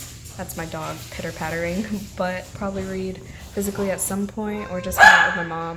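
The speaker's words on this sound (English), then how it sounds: "And now my dog's barking" A dog barks a few sharp times near the end while a person keeps talking over steady background hum.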